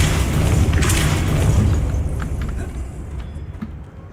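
A Depulso force spell blast in the Hogwarts Legacy video game: a heavy, booming rush of power that stays loud for about two seconds, then fades into a rumbling tail with faint scattered clatter.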